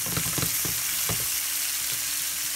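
Chopped onions sautéing in a pan with cilantro, giving a steady hiss and sizzle, with a few soft stirring scrapes early on.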